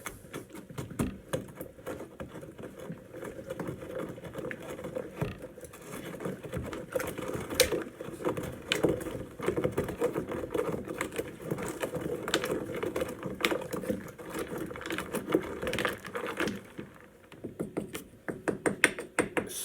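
A spoon stirs a thick mead mixture of apple, cinnamon and honey in a container, giving a continuous stretch of soft clinks, taps and wet sloshing in an uneven rhythm, close by, with no voices.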